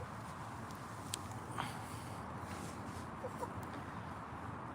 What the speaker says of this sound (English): Friendliest chickens in the world.